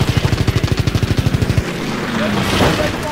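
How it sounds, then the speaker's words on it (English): Aircraft in the Call of Duty WW2 video game: a rapid, loud pulsing machine-gun-like burst for about a second and a half, then a rushing engine roar sweeping past overhead. "our own planes are chasing him."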